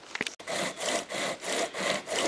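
A Sportsman pocket chain saw is pulled back and forth through wood in steady rhythmic strokes, about five rasping cuts close by, after a brief knock at the start, with no talking.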